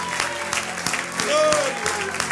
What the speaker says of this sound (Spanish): Y tu pueblo se despide con un gran batir de palmas, Señor Jesús.